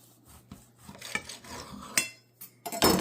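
A knife cuts open a Thanksgiving dinner burrito, with scattered scraping and tapping of the blade against a plate and a louder crunching rasp at the end, nearby and fairly quiet.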